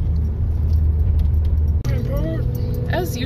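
Car climbing the Pikes Peak Highway, a steady low engine and road rumble with a bouncy ride, keys jangling in the cabin, and a voice speaking partway through.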